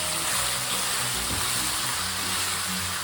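Bitter gourd frying in a pan, a dense, continuous crackling sizzle that stays loud and even throughout with no talking.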